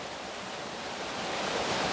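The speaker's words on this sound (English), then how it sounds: "I can actually get a breeze now off this waterfall here." Waterfall with strong flow beside ice cliffs, heard as a faint, steady broadband rush of falling water that swells slightly over a couple of seconds.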